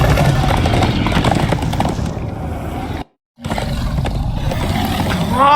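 Horses gallop in Minecraft: Story Mode, a loud, rapid clip-clop of hooves pounding continuously, broken by a brief moment of silence before the rhythmic galloping resumes.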